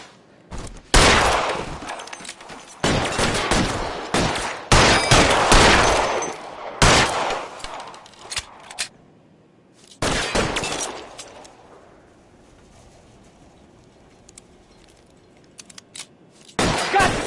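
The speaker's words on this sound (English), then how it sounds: "Covering fire!" Sustained bursts of gunfire laid down as covering fire, loud and dense volleys crackling in long stretches separated by short lulls, with a final burst starting up at the end.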